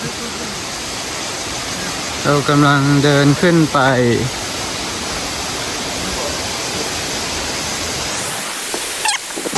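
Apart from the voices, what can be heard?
waterfall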